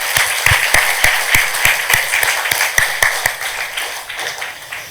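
A church congregation claps during a Sunday afternoon sermon, giving glory to God: loud, close, evenly spaced claps in a steady rhythm over a bed of scattered applause, easing off toward the end.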